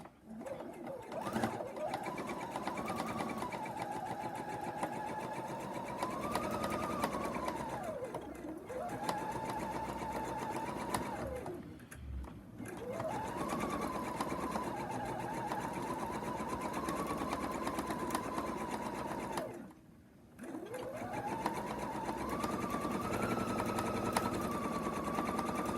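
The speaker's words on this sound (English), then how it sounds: "I'm just going to sew 1/4 inch seam" A sewing machine stitches a quarter-inch seam in patchwork fabric, whirring in long, steady runs that pause and restart briefly, loud and close throughout.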